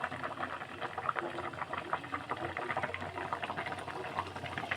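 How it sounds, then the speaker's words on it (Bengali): Water bubbles at a rolling boil in a cooking pot, waiting for fish to go in, giving a busy, continuous crackling burble that sits close and moderately loud, with no talking. "ফুটে উঠেছে, এবার মাছটা দিয়ে দেবো।"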